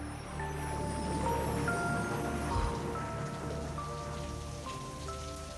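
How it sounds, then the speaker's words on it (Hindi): Heavy rain falls steadily and loudly outside, a dense continuous hiss with faint music tones underneath. "माय गॉड, ये बरसात"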